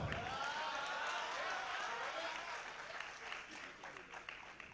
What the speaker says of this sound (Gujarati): તમને નવું લાગતું હોય તો તાળીઓ પાડો